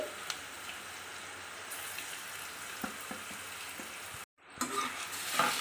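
Grated raw mango fries in a pan of tempering, giving a faint, steady close sizzle with small pops, then a short gap before the frying noise swells again.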